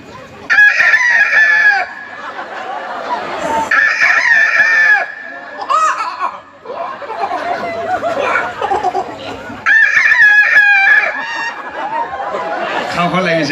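A man imitates a rooster's morning crow with his voice, giving three loud, drawn-out cock-a-doodle calls separated by bursts of talk and chuckling.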